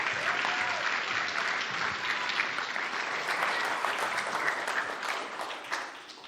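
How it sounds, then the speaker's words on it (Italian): An audience at a live sports broadcast event applauds, with dense, sustained clapping from many hands that holds steady throughout and fades slightly at the end. "fatevi un applauso un pochino più grande"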